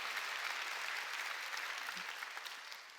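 A congregation claps during a Korean Sunday church worship service, a dense wash of many hands that holds steady at moderate volume, then eases slightly toward the end.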